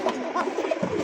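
A female domestic pigeon at a pigeon farm gives a short, soft cooing call up close, with faint background noise.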